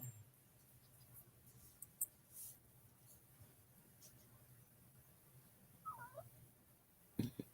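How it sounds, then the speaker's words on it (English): A dog gives a brief, faint, high whine that sounds almost like a cat's meow, set against quiet room noise. "That was my dog whining."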